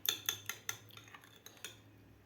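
Beaten eggs and salt being whisked in a bowl, close and fairly quiet, with a quick series of sharp metallic clicks and taps as the utensil hits the sides.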